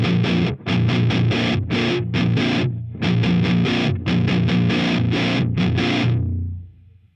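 Electric guitar played through a BOSS HM-3 Hyper Metal distortion pedal at heavy, high gain, loud chugging chords and bursts with short pauses, ringing out and fading at the end.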